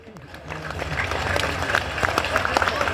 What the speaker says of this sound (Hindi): ताली नहीं बजा रहे भीतर वाले?